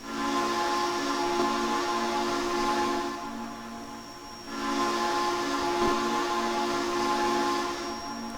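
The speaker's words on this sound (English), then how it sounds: "Whistle's not half bad." Steam whistle of a Frisco T-54 4-8-2 Mountain locomotive in the Trainz railroad simulator, two long sustained hissing blasts with a brief dip between them, loud and close, no talk.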